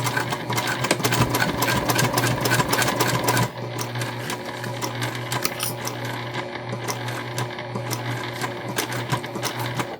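A sewing machine runs steadily, stitching back over a line of earlier stitches while making a beautiful item from a shrunken Jessica pattern; the close, continuous mechanical whir shifts slightly in pace partway through, with no talking.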